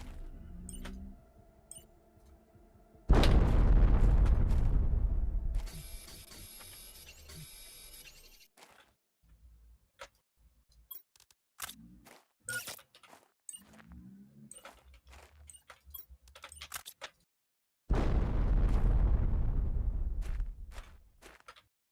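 A bomb explodes in The Planet Crafter with a sudden loud blast that rumbles and slowly fades. A second similar boom comes much later, with clicks and mechanical game sounds between the two.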